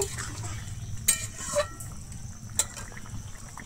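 A spoon stirs fried eggs into potato curry in a pan, making soft wet scraping with a few sharp metallic clinks against the rim over low background noise.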